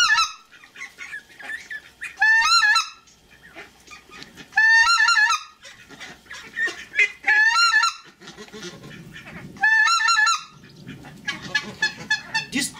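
Schoolhunter Dominator mouth-blown goose call imitating a white-fronted goose contact call: five loud, high, clipped honking bursts at regular intervals, with quieter chatter and low rumble between them.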